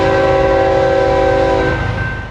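A train on tracks along 4th Street sounds a long, loud, steady horn blast, close and sustained before fading slightly at the end.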